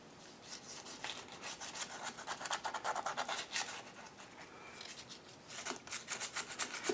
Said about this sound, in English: So what I'm doing is clearly I'm just roughing the surface up.